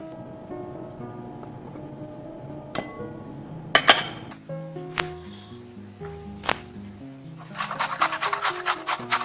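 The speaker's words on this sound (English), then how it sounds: "finish off grating the carrots" Carrots rubbed against a hand grater for coleslaw: scraping rasps in short strokes that become a faster run of bright, gritty scrapes near the end, heard close over a tonal musical background.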